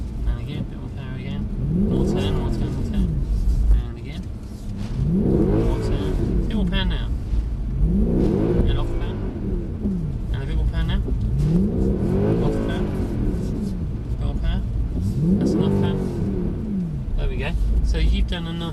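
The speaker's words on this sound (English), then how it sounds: "let's give it another go, controlling that skid. So a bit of power, off the power, turn, turn, turn." Mercedes car drifting through repeated skids at Mercedes World, the engine revving up and dropping off in a steady rhythm as power goes on and off, with someone talking over it throughout.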